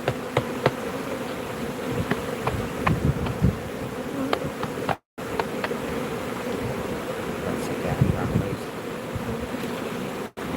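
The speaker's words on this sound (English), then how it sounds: "We got a lot of bees flying here." Many bees swarm around an opened beehive, a dense, continuous buzzing hum close by with individual insects zipping past, while a person speaks briefly.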